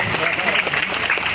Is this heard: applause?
yes